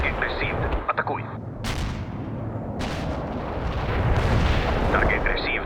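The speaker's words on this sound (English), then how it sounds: "Artillery strike on the way." Artillery strike in the video game World in Conflict, with a dense rolling wall of booms and rumbling blasts, punctuated by a few sharper cracks.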